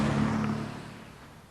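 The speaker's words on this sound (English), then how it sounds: "Whilst up on that bridge above me, there are all those noisy cars." Noisy cars rumble across a bridge overhead, heard from beneath it as a droning traffic hum that starts fairly loud and gradually fades away.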